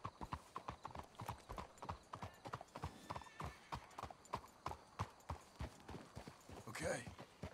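Steady clip-clop of horse hooves in Red Dead Redemption II at a walking pace, close by, with a brief whinny near the end and faint voices in the background.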